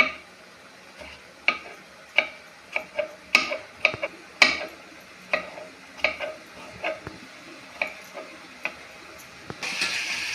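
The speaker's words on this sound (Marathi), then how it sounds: "तर आपले मासे असे झालेले आणि आता ते पलटी करून घ्यायच्यात आपल्याला" Fish frying in a pan at home, a Marathi-style fish curry in progress, with a soft steady sizzle under a series of sharp clinks and scrapes as the pieces are turned, then a louder hiss near the end.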